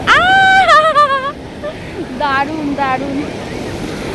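Sea waves wash onto the beach at Digha with a steady broad rush, while excited voices exclaim loudly near the water at the start.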